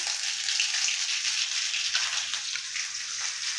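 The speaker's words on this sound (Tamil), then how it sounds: "வடசட்டியில் எண்ணெய் விட்டுருக்கேன். கடுகு தாளிக்கிறேன்." Mustard seeds crackle and sizzle steadily in hot oil in a wok with small popping bursts, close and continuous, no talking.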